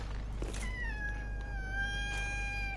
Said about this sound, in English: That's my cat Rufus